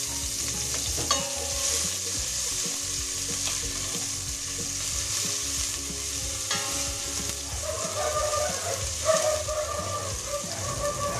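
Onions frying and being stirred in hot oil at a roadside cooking spot, a steady close sizzle with scraping stirs throughout and no talk over it.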